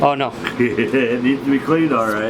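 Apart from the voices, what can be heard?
No everyday noise stands out behind the speech.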